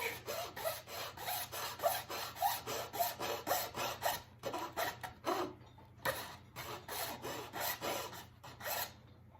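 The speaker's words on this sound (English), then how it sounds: "It's a razor saw." A fine-toothed razor saw rasps through a small scale-model rocket part in quick, rhythmic back-and-forth strokes, close up, with a brief pause partway through.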